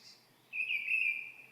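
One faint, high whistled phrase from a mistle thrush rises out of quiet background hiss halfway through and holds for about a second before easing off.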